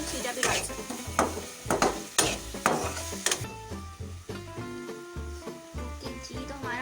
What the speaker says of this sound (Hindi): तो हमारा मसाला भुन रहा है।